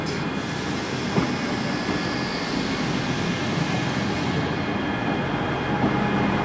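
A ScotRail Class 158 diesel multiple unit pulls into a platform at Glasgow Queen Street station, giving a steady, loud rumbling roar with a constant hum throughout and no talking.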